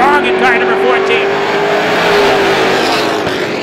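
Outlaw race cars at Star Speedway roar through turns one and two side by side, a loud steady engine drone with a rising and falling pitch, with an announcer talking over it throughout.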